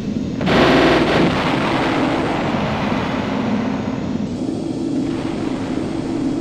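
In the video game Battle Engine Aquila, micro missiles and gunfire burst loudly and densely at first, then settle into a sustained roaring barrage of fire and engine noise.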